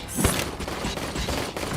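Dense gunfire in the video game RoboCop: Rogue City, a continuous loud barrage of rapid shots with a sharp burst near the start and constant clatter throughout, up close.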